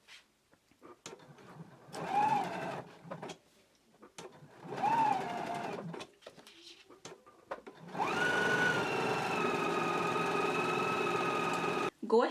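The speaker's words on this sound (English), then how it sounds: "We're gonna go ahead and stitch in a 3/8 of an inch seam allowance all the way around the tab" A sewing machine runs steadily for several seconds, stitching fabric jacket tabs with a 3/8 inch seam allowance. The close, even mechanical whir follows a quieter stretch of intermittent sounds.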